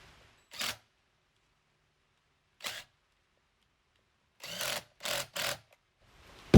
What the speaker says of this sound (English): We'll use the power wrench, that's the easy way.